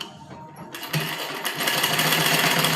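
Sewing machine stitching suit fabric with a half-inch seam margin, a fast steady mechanical whirr that starts after a brief pause and runs on continuously, close and fairly loud.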